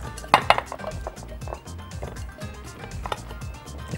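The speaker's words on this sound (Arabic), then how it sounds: "تعالوا بقى نجيب بايركس. نحط فيها البطاطس اللي احنا مقطعينها واجز" Sliced potatoes dropped and arranged in a glass Pyrex dish, giving a run of close clinks, taps and soft knocks at an irregular pace, some sharp and bright, with no talking.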